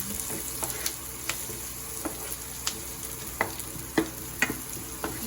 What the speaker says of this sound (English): So you saute it, the onions and the chilies and that until it's like soft.